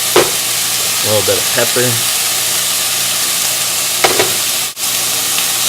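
A home-cooked stir fry sizzles steadily in a pan as it is stirred, a constant hissing fry running throughout with a voice talking over it in brief phrases.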